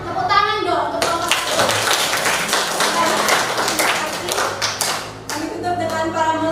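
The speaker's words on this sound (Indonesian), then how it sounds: "Tepuk tangan dong untuk kelompok" Classroom audience clapping for a presenting student group, a dense burst of hand claps for several seconds framed by voices speaking before and after.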